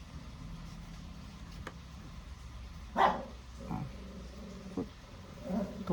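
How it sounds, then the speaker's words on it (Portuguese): A dog barks a few times from a distance, faint, scattered single woofs over low background noise in a home. "O cachorro hoje tá atacado."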